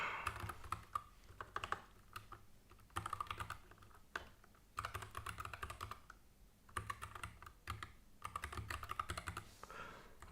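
Typing on a computer keyboard, with bursts of quick, uneven keystrokes separated by short pauses and no voices present.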